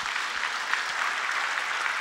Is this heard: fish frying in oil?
no